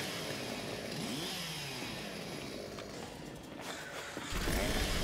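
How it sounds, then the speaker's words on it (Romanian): Chainsaw in the video game Gears 5, a loud continuous revving engine buzz that dips slightly and then surges louder at the end, no voices. "Ce fain care drujbă."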